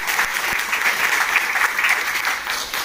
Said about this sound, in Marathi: एकदा जोरदार टाळ्या झाल्या पाहिजेत आज या कार्यक्रमासाठी.